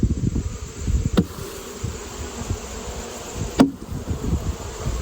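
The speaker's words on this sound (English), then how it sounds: "Come on, bees, get off of there." Steady buzzing of honey bees fills the air, a dense low hum with a couple of sharp clicks or knocks standing out.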